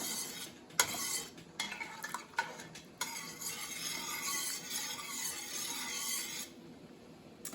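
Salt being stirred into hot pickling brine in a pot, a continuous close swirling and scraping with a few sharp clinks of a spoon against the metal early on, then a softer steady churn.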